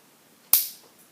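A tiny spring-powered Lego gun fires a projectile at a door, producing one sharp, sudden snap with a quick decay, close and alone against near silence.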